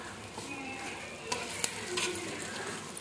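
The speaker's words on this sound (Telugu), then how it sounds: "ఒక 2 నిమిషాలు వేయించుకోండి బాగా మటన్ని" Mutton fries in a clay pot, a steady close sizzle with soft crackles and a few brief knocks from stirring or the spoon against the pot.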